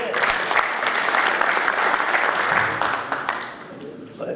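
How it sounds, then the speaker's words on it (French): A seated audience gives dense, sustained applause that fades slightly toward the end, with a voice faintly heard underneath. "On l'applaudit ici."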